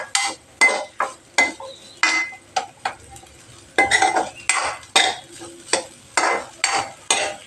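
Spices being stirred in a pan for chammanthi: repeated metal scrapes and clinks of a spoon against the pan in a steady rhythm, close and fairly loud, with only a faint sizzle underneath.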